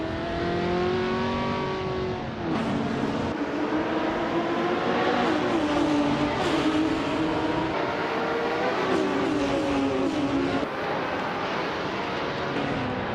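Race cars scream around a track in a video game, with several engines whining and shifting pitch as they rev and pass close by in overlapping waves, loud and continuous.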